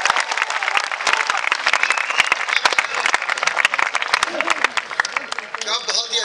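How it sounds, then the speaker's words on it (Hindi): An audience at a Hindi kavi sammelan applauds poet Dinesh Devgharya, with dense, sustained clapping close by that carries on for several seconds before a voice starts speaking near the end. "एक बार फिर तालियां बजे दिनेश भैया के लिए।"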